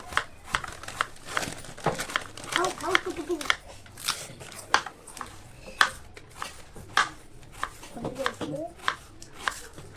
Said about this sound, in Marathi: आता कांदा कापून घेऊया कांदा पण बारीक कापून घेऊया